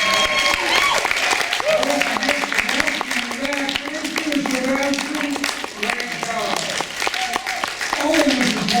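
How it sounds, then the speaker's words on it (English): An audience at a Hawaiian dinner show gives the performers a loud, sustained round of applause. Dense clapping fills the space while voices and music carry on underneath. "All of the performers deserve a final hand of applause"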